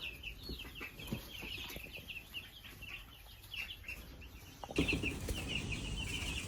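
Several meat chickens cluck and chatter close by in a steady, busy flock, with a louder burst of activity near the end.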